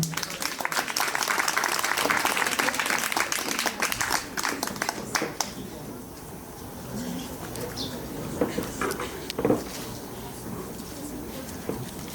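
Audience applauding at a bandura trio concert, loud dense clapping for about five seconds that thins out into a quieter room with scattered noises.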